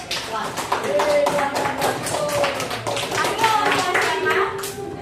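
Group of people clapping steadily for several seconds at an elementary school class, a brisk rhythm of many hands, with voices faintly mixed in.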